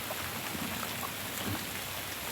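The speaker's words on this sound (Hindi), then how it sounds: "तेज़ पड़ रही है बारिश" Heavy rain pours down in a constant, even hiss with no voices and no breaks, loud and close throughout.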